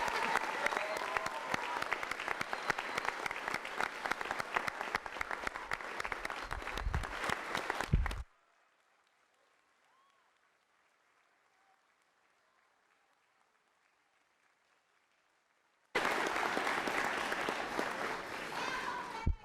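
An audience bursts into loud, sustained clapping for the graduating class of 2019 at a school moving-on ceremony, stops abruptly for several seconds of near silence, then erupts into applause again.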